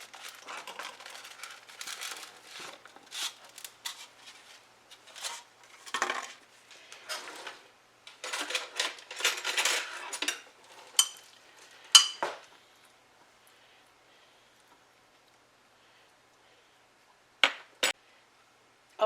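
Somewhat over a pound of deboned chicken goes into a crock pot, with close crinkling, rustling and light clattering in bursts for about twelve seconds, then near quiet broken by two or three sharp clinks; no talking.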